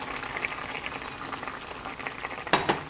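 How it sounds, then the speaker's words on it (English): Papaya chutney bubbling in a covered pot, a steady soft hiss and simmer with a brief louder clatter near the end. "And now cover it and let it boil."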